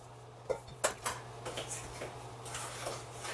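A fork beats rhubarb cake batter in a bowl, producing a series of sharp clinks and taps against the dish followed by quieter rhythmic stirring, close and without speech.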